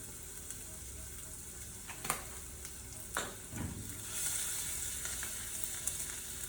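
Garlic and a touch of hing sizzle steadily in hot, near-smoking oil for a Bihari eggplant dish, with a few sharper scrapes of stirring over the continuous frying hiss.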